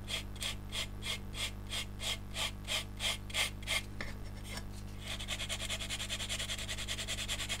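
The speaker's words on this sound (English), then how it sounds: "I'm going to go straight to the orange sponge and I'm going to sand it down" An orange sanding sponge rubs across wrinkled aluminium foil on a scale model, giving a steady series of quick rasping strokes that blur into a continuous, softer scrubbing hiss.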